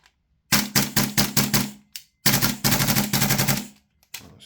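Airsoft MWS gas blowback rifle firing with the standard-weight setup, sharp rapid bursts of cracking shots in quick rhythmic volleys with brief gaps between strings, close and loud.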